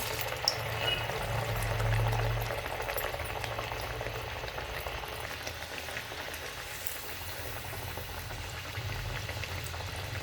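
Mixed dal vadas slide into hot oil and fry with a steady, bubbling sizzle that holds at an even level throughout, with no voices.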